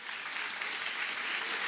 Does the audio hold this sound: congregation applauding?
yes